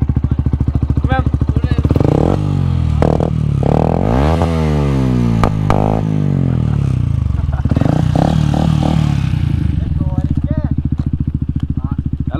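A motorcycle rides close by, its engine revving up and down in loud rising and falling sweeps with a rattling edge and brief drops between throttle bursts.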